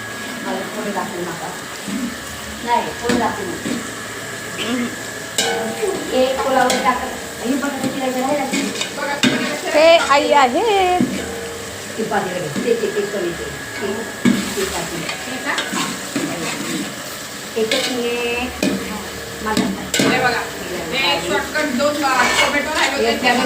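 Pulao rice, cooked in a large pot for forty pilgrims, sizzles and fries while a spoon stirs it in repeated scraping strokes. People talk over the cooking the whole time.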